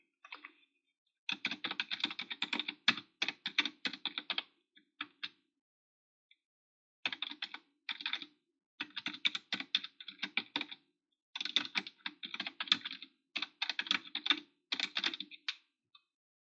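Rapid clicking of a computer keyboard as a comment is typed, arriving in close bursts of keystrokes separated by brief pauses, with no voices over it.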